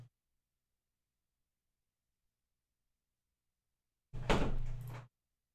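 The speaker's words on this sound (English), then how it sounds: "Shut that door." A door is shut once in an indoor room: a single short, fairly loud thud after a long stretch of near silence.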